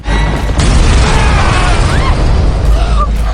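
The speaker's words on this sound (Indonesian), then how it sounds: "Dan kemudian rumah itu pun meledak." House exploding in a film, a heavy boom that rolls on into a sustained roaring blast with debris and crashing layered on top, loud and dense for several seconds.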